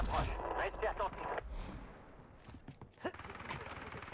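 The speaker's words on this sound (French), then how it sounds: "Bombardement explosé d'ennemis en approche." Air bombardment explosions in the video game Black Ops Royale: a series of heavy booming blasts, loud at the start and again near the end, over a busy layer of game noise.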